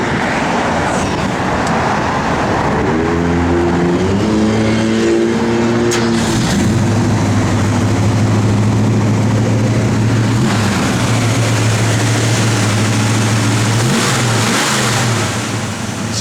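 A 1965 Ford Mustang 2+2 engine cranks, fires and settles into a running idle, then revs up and back down, loud and close with no talking.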